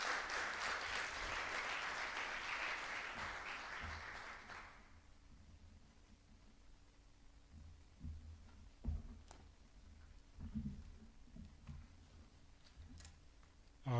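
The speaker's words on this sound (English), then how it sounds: "A big round of applause as comes." Conference audience at the 2023 IRSK inaugural conference breaking into a round of applause that lasts about five seconds and then stops abruptly, leaving a quiet room with faint hum and a few scattered knocks and shuffles.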